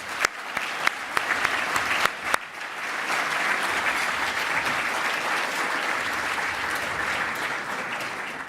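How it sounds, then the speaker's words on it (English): Audience at an equality awards gala bursting into applause, a few scattered claps swelling into sustained, dense clapping from a large crowd. "let's give them a round of applause"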